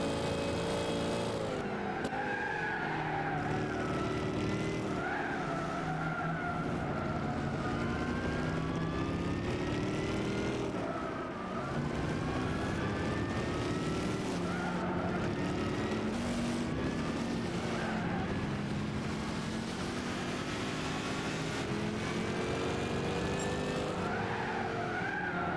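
Race cars including a Ford, a Nissan and a McLaren in the Gran Turismo 6 racing game, with engine notes rising and falling in pitch as they shift and pass, continuous and fairly loud throughout.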